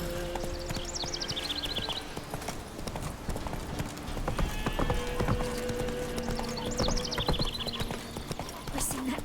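Horse hooves galloping in the video game The Witcher 3: Wild Hunt, a steady fast clip-clop rhythm running throughout, close and clear, with a couple of short whinnies and a faint voice underneath.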